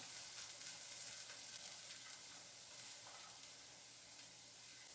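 Softened, translucent onions and paprika sizzle steadily in a pan for chicken paprikash, making a close, even, continuous frying hiss with no talk.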